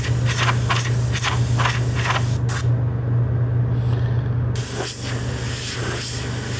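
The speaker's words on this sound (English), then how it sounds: "Clean that airbrush out." Airbrush spraying paint onto a graffiti-style helmet, a close, continuous airy hiss with short pulses. It drops out for about two seconds, then resumes steadily.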